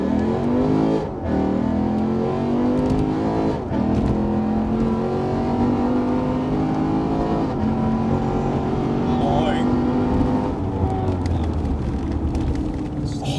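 A 2008 Lexus IS F V8 revs hard and accelerates, a loud, sustained engine roar with rising harmonic pitch that holds for most of the stretch and dips briefly near the start and end, while voices talk over it.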